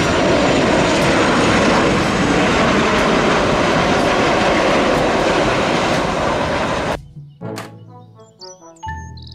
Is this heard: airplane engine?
yes